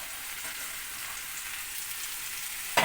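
Paneer pieces and mixed vegetables fry in a pan with a soft, steady hiss and crackle, continuous and fairly quiet, ending in a sharper clatter.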